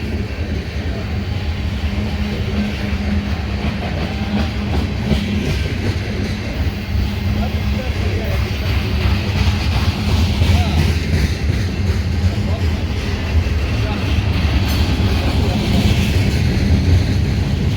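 CSX M372 freight train with diesel fuel tank cars rolling past in Mt. Airy, a continuous heavy rumble with rhythmic clickety-clack of wheels on rail joints and squealing metallic overtones.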